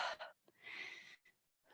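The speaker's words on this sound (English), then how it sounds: "You can probably hear me breathing." Yoga instructor's heavy breathing during a Vinyasa and Kundalini exercise: a few sharp, close inhales and exhales in quick succession, quiet and alone with short pauses between.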